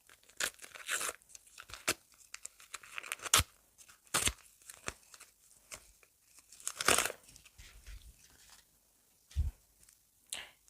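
Crinkling paper package of video backgrounds being handled, with irregular sharp crackles, rustles and brief tearing bursts up close amid quieter pauses.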